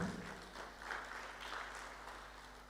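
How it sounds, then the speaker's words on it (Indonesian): Applause from a church congregation during a sermon, a soft, steady wash of clapping that sounds distant and stays even throughout. "Tepuk tangan buat Dia."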